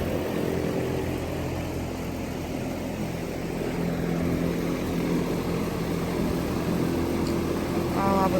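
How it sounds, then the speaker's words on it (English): A big industrial fan runs with a steady, broad whooshing roar inside a barn-like antique shop, constant and fairly loud throughout with no clear change in pitch. "It's that big industrial fan right there."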